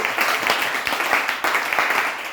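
Congregation applauding during a church service, a dense, steady wash of clapping from many hands that carries on throughout without pause.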